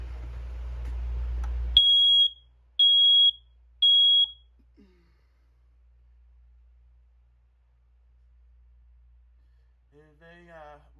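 A bedroom smoke alarm under test gives three loud, shrill beeps in even succession after a burst of hiss. Then near silence follows, with a faint voice at the very end.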